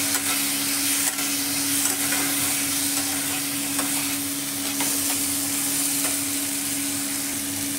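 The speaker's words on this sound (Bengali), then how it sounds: "এবার এটাকে আমি ভালো করে কষিয়ে নেব চিংড়ি মাছের সাথে মশলাটাকে।" Fried shrimp stirred with masala in a pan give a steady, close sizzle, with faint scraping and a constant low hum underneath and no voices.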